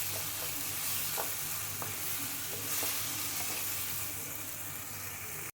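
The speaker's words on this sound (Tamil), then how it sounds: "இந்த தக்காளி, வெங்காயம் இதெல்லாம் நல்லா மசிஞ்சு அப்படியே நல்லா கொல கொலன்னு வர அளவுக்கு நல்லா வேகணும். ஸோ அதனால் கொஞ்ச நேரம் நல்லா வதக்கி விடுங்க." Chopped tomatoes and onions sautéing in a pan for a capsicum rice lunch-box dish, stirred now and then; a steady faint sizzle with a few soft scraping taps, close but quiet, with no talking.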